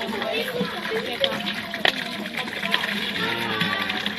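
Water poured into a container at a primary school classroom activity, a steady continuous splashing flow at moderate distance with voices and room noise in the background.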